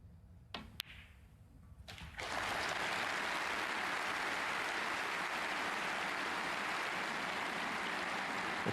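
Snooker crowd at the German Masters 2024 semi-final breaking into applause after a couple of sharp knocks, the clapping swelling quickly into a steady, dense roar that continues loud and unbroken to the end.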